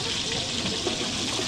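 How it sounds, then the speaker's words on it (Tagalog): Water is poured from a container into a cooking pot, a brief continuous splashing gush, close and fairly loud, with a faint background hiss. "Ito yung tubig. Lagyan mo tubig."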